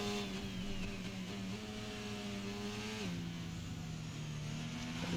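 Racing car engine in an F1 video game at an Abu Dhabi Grand Prix, revving steadily with a whining tone that dips once as it shifts, then climbs again as it accelerates; loud and continuous, with no talk.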